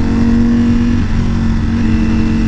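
A full carbon-fiber Ducati V4S motorcycle engine runs loud and close, holding a steady high-revving drone with a slight dip in pitch midway during an attempted upshift.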